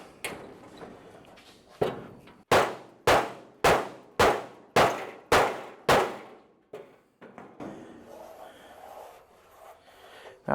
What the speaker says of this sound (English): I know it sounds like I'm hitting it really hard and it could damage it